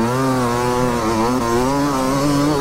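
An enduro motorcycle's engine screams continuously at high revs, close and loud, its pitch wavering as it races over sand at the Enduropale du Touquet beach race.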